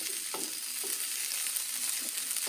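Kimchi fried rice sizzles steadily in a hot pan, a dense close hiss with a few soft scrapes as it is stirred, no voices.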